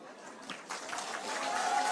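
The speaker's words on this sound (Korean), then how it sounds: "여러분께서 큰 박수로 결의문을 직접 채택해 주셨습니다" A hall full of party members at a Busan New Year gathering breaks into applause to adopt a resolution, a broad clapping swell that builds steadily over crowd murmur.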